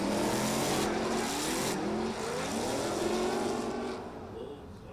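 A Toyota Mark II drift car with a 2JZ engine and Quaife gearbox at an international drift event in Oman, its engine howling loud and sustained with shifting pitch as it revs, then dropping off slightly near the end.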